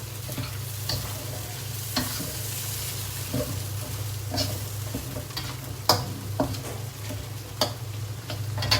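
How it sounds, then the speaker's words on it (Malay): Beef sizzles steadily in hot oil, fried without boiling first, with occasional sharp pops and stirring clicks over a constant low frying hiss. "Daging kalau kita nak goreng, jangan rebus dulu, no. Terus je goreng."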